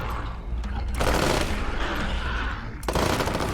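Gunfire in the video game Wasteland 3: a sustained, dense volley of rapid shots that swells loudly around the middle and then cuts off briefly before another burst.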